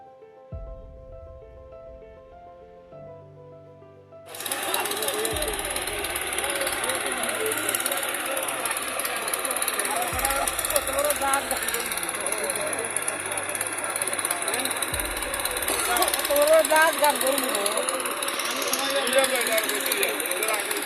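Engines pumping water out of a river ferry ghat to raise a sunken boat, with a dredger engine working alongside, start a loud continuous drone partway through that runs steadily to the end, while a voice talks over it.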